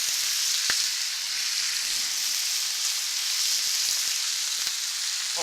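Bacon, sausage and hash browns sizzle on a Blackstone griddle in a constant bright hiss, with a couple of faint clicks and scrapes and no voices.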